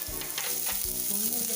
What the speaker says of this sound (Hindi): भून लेंगे प्याज को।